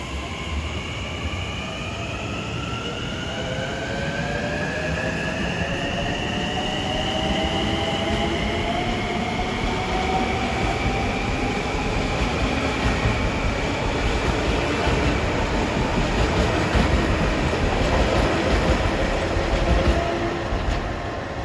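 Long Island Rail Road commuter trains pass on triple track at Carle Place during the morning rush, a continuous loud rumble of wheels with rising and falling squealing tones and clicking rail joints that builds over the whole stretch.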